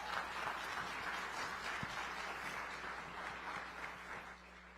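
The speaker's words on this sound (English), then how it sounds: "Please give another round of applause to Nicole Lynn Lewis." Audience applause for speaker Nicole Lynn Lewis at the UNCF Summit for Black Higher Education: steady, distant-sounding clapping from a large room that holds at a moderate level throughout, with a low background hum underneath.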